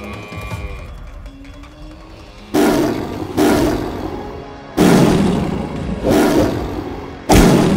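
A series of loud, close tiger roars, about five powerful bursts spaced a second or so apart, each swelling then fading.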